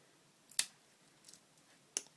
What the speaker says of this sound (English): Scissors, which actually work quite well.